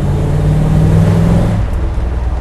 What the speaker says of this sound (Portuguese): o som desse V8 é sensacional